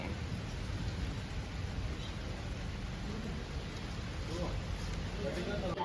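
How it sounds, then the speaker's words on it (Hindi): Steady rain falls outdoors, a continuous hiss of drops with a low rumbling undertone, holding at an even moderate level with voices faintly mixed in. "बारिश स्टार्ट हो गई है।"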